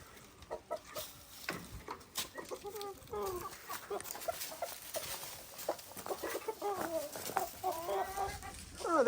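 Chickens led by a rooster called Elvis, let out into a farm chicken yard, clucking and calling busily throughout, fairly faint and with no talking.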